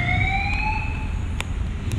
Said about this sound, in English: suddenly I hear a siren